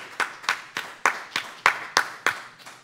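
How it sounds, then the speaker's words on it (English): Applause for a speaker at a trauma resilience summit, heard as about a dozen sharp, evenly spaced claps close by, like one or a few people clapping slowly. "let's give Brian a round of applause"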